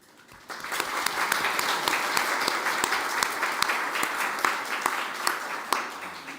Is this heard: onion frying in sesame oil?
no